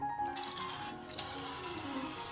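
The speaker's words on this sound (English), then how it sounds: "Rinse the inside of each mantle under running water" Running tap water streams steadily into a sink as squid mantles are rinsed, a close, continuous splashing flow with no talking.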